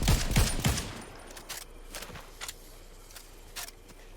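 Rapid gunfire bursts in Fortnite Zero Build, a quick cluster of loud shots at the start followed by scattered single shots at a distance, over faint game ambience.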